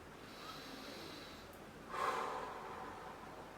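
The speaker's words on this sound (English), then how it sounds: "Deep inhales through the nose and then out through the mouth." Slow, deep breathing during a stress-relief yoga exercise, drawing air in through the nose and releasing it through the mouth: a faint breathy inhale, then a louder, fuller airy exhale, close and quiet with no talk.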